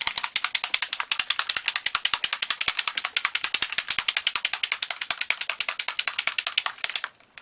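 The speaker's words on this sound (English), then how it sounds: "There's a little applicator ball kind of a thing in there, metal ball, and you want to shake that up." A metal applicator ball rattles rapidly inside a spray can being shaken, a steady fast clatter lasting several seconds before stopping.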